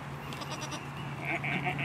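A goat bleats on a farm, giving a short wavering call that repeats, fairly close and clear over low background noise.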